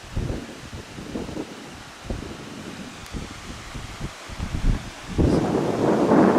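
Wind blows across the open shore at the Dead Sea in rough, gusty surges, with a louder, steadier rush building toward the end.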